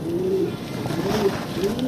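Pigeons in a coop give soft, low cooing calls in a few drawn-out phrases over a faint background hiss. No voices can be heard.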